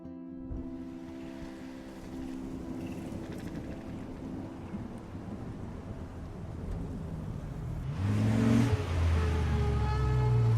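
A car drives in the game Life is Strange, a steady low engine drone with a faint whining tone running underneath, then a louder rumbling surge near the end.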